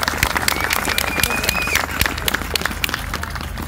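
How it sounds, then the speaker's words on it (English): An audience gives a round of applause for boys and girls at a Luke Kelly tribute event, scattered claps with some sharp individual hits over crowd murmur and a brief whistle-like tone. "Roll of applause for the boys and girls"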